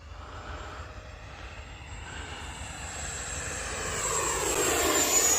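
E-flite F-18 Blue Angels RC jet flying at speed, its ducted-fan whine growing steadily louder and rising in pitch as it approaches, with no talking.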